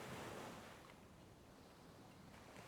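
Ocean waves wash steadily against a sailboat out at sea at sunset, a soft, continuous surf and breeze hiss, faint and even with no voices.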